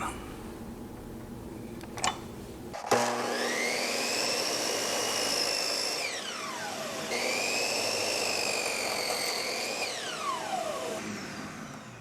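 A miter saw fitted with a Freud full kerf, 96-tooth blade makes two cuts through wood. Each cut is a loud, high motor whine that holds steady and then winds down, heard up close with no talk.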